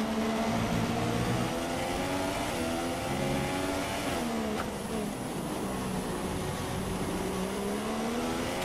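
Formula 1 car engine in F1 2016 during qualifying in Russia, a high, steady whine that rises and falls in pitch through gear changes and corners, loud and continuous throughout, with no voices.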